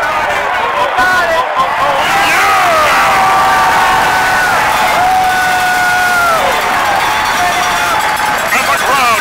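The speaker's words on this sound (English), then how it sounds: "And the crowd goes wild!" A baseball crowd at Tropicana Field cheers wildly with loud, sustained roaring and shouting and a few whoops rising above the din, and voices can be heard close by over the noise.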